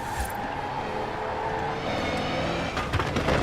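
Truck engine in Forza Horizon 4 racing, a steady high whine layered over the motor's drone, continuous and fairly close with tonal bands holding pitch and a few brief bumps near the end.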